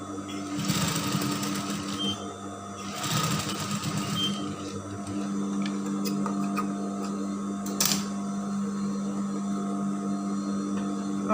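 A sewing machine stitches the top section of gathered baggy pants, running steadily and close with a continuous whirring hum and a brief louder burst early on, no talk over it.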